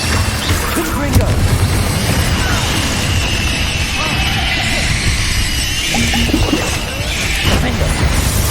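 Repeated spell blasts in the Hogwarts Legacy video game, Confringo fire bolts mixed with other combat spells, booming and crashing loudly in a dense, continuous barrage with clattering impacts throughout.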